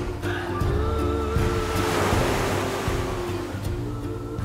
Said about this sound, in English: enjoying the melodic sounds of the waves crashing against the water